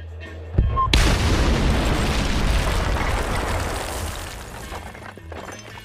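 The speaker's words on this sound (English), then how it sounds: "listen to how the music of the radio and the explosions interact" A sudden loud explosion in the video game Battlefield: Bad Company bursts in after a quiet moment, then a long rumbling roar that slowly fades; no clear music is audible.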